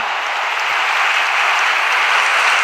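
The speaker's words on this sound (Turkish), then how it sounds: "Vitinha alkış alıyor taraftarlardan." Football fans in a stadium applaud midfielder Vitinha, a dense, steady clapping from a large crowd that holds loud and even throughout with no voices.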